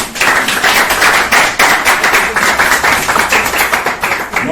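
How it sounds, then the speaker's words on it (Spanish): An audience at a public speaking conference applauds loudly and continuously, many hands clapping densely together, with the clapping swelling and easing slightly over several seconds. "Pues un aplauso, por favor."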